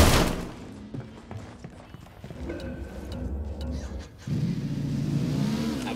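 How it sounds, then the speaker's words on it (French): A car engine in the video game Ghost Recon Wildlands hums and revs in the background amid clattering noises in a tunnel, growing louder and steadier toward the end. "J'entends des bruits de moteur."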